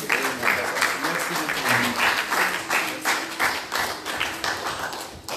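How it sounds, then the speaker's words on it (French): A crowd claps in a sustained burst of applause at a church honors ceremony, dense and uneven, holding steady throughout. "Nous applaudissons au nom de Jésus."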